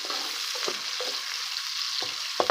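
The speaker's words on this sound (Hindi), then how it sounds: "घी बहुत गर्म है इसलिए प्याज जल्दी फ्राई हो जाएगा इसके अंदर" Onions frying in very hot ghee for an aloo baingan dish, a continuous bright sizzle close by with a few soft utensil knocks, no talking.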